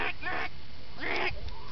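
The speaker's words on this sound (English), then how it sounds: "You hear the duckies?" Ducks quacking outdoors, three or four raspy, nasal calls in short bursts separated by brief gaps, moderately close against steady background noise.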